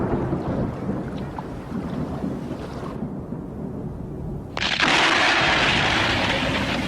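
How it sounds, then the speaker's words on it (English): A thunderstorm over the high Ethiopian plateau in the rainy season: a steady, broad roar of heavy rain and rumbling thunder fills the whole stretch, swelling louder and brighter near the end. "storms rage over the high Ethiopian plateau"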